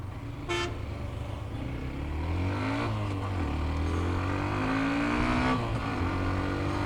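A Hero Xtreme motorcycle engine drones and rises in pitch as it accelerates, with a brief horn toot early on and continuous road noise throughout.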